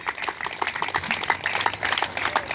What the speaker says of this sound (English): Give them a big round of applause for their leadership today.